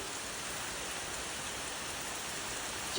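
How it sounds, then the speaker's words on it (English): Heavy rain pours steadily during a thunderstorm with gusty wind, a continuous even hiss of drops drumming on surfaces, close and uniform throughout, with a brief louder burst at the very end. "It is raining super hard."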